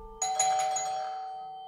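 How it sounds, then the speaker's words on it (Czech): A doorbell rings at a house on the edge of Monterey, a single clear electronic chime that rings out and decays slowly, loud and close with no talking. "zazvonil na zvonek"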